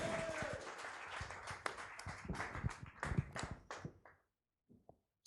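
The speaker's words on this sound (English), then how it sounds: "big round of applause, your 16th president" A crowd applauds a comedian dressed as Abraham Lincoln at a stage roast. The clapping is dense and loud at first, then thins into scattered claps and fades to near silence before a final burst.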